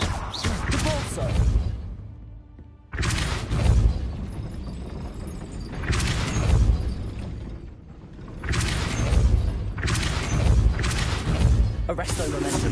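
Depulso force spells are cast repeatedly in the video game Hogwarts Legacy, producing bursts of whooshing, crashing magical impacts and mechanical clatter. The bursts come in several loud waves separated by short quiet gaps, with a voice shouting spell names at times.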